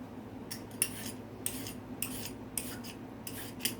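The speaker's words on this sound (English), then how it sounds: "right now I'm just I'm peeling my carrots" Organic carrots are scraped with a peeler in a series of quick, evenly spaced rasping strokes, about one every half second, close but quiet, with no voices.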